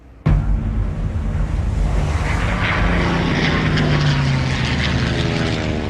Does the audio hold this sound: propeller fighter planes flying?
yes